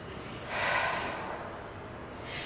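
A yoga instructor holding a low lunge in a vinyasa flow takes a single deep, audible breath, a close breathy rush that swells, trails off, then lifts again more softly near the end.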